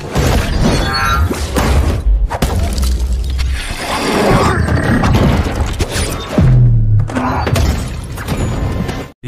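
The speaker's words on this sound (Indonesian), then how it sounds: "ia malah memilih adu jotos yang pada akhirnya seisi rumah Adriana hancur berantakan" A house interior is wrecked during a superhero fist fight in the Black Adam film, with loud, nearly continuous crashes, shattering and heavy booming thuds over about nine seconds.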